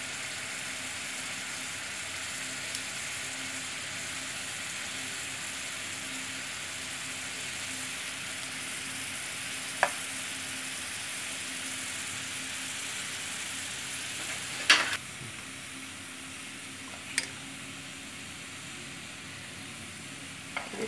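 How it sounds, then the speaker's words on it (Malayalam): Mutta mala, a Kerala egg-strand sweet, being stirred in a pan over low heat, a faint steady sizzle with a few sharp clinks of the utensil against the pan. "ഇങ്ങനെ ഇളക്കി ചേർക്കണം."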